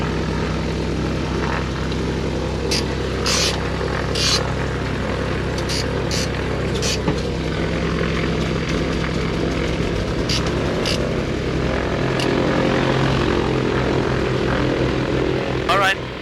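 A small propeller airplane engine runs loud and steady at close range, its drone filling the whole stretch with faint voices underneath, on the ground at Brookhaven Airport in Shirley, New York.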